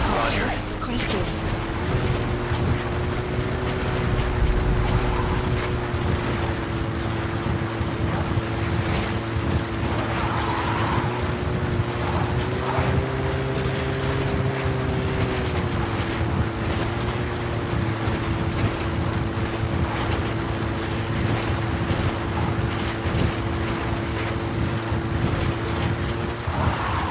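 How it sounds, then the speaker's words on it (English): A support helicopter from Metal Gear Solid V flies in, its rotor producing a steady, droning hum that holds for the whole stretch, with faint voices beneath it. "Support helicopter requested."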